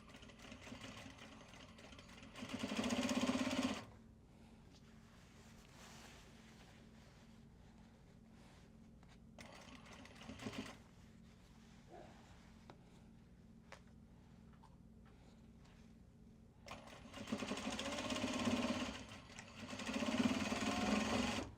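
Sewing machine running a straight stitch on a Japanese fabric bag, heard in two close, steady whirring bursts near the start and again toward the end, with quiet handling noises between them.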